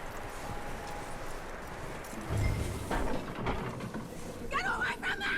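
Hooves clop from a horse in Red Dead Redemption 2, a few close irregular steps under soft breathy ambience, with brief vocal sounds near the end.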